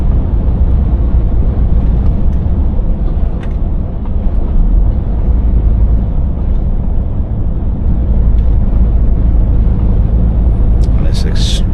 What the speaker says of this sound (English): you're hearing this amount of traffic, which will be one of the major motorways diverted through your little town and village.